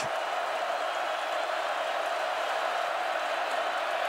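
Steady, dense roar of a college football stadium crowd on third down and seven, Duke at Virginia Tech in 2015, filling the air evenly throughout with no breaks or distinct cheers rising out of it.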